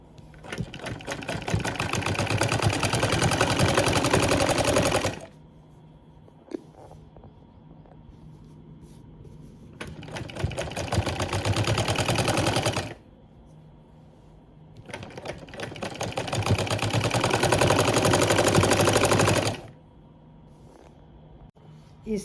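A sewing machine stitches lace onto fabric for umbrella-shaped sleeves, running in three loud, fast, even bursts of a few seconds each, separated by quiet pauses with faint handling noise.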